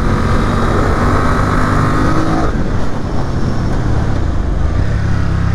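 A BMW F900R motorcycle engine at high revs on a race track, roaring loudly and continuously, with a gear shift that briefly drops the pitch midway before the engine pulls again.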